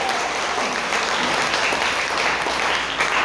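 Congregation at a Sunday worship service breaking into loud, dense applause for the Lord, sustained clapping filling the room without pause.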